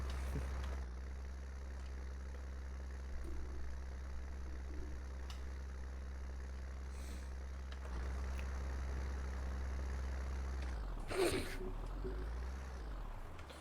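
A white tractor engine idles steadily with a low, constant rumble in the Farming Simulator video game, with a brief louder burst near the end.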